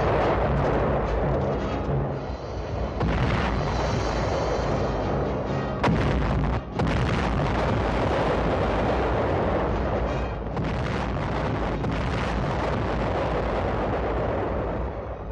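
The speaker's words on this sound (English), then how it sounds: "Our artillery went into action." World War 2 artillery fires in a dense, continuous barrage of loud booms and rumbling blasts that overlap into a sustained roar with no gaps.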